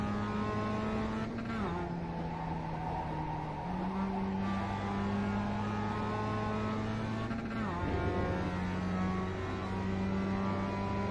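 A Mazda MX-5 race car engine in iRacing at Okayama drones close and steady, with pitch rising through the gears, dropping on shifts and climbing again as the car accelerates.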